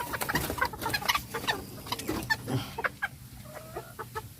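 Chabo bantam chickens cluck in a breeding pen: a busy, close chorus of short overlapping clucks and chatter, louder at first and thinning toward the end.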